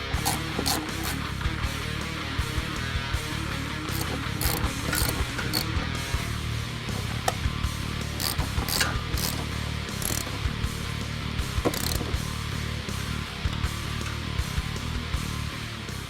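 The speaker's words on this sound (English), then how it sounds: "Now grab the hardware and tighten it up." A hand ratchet tightens shifter bracket hardware on a 2005-2010 Mustang GT during a short throw shifter install, rapid steady clicking bursts repeating close up with brief pauses between strokes.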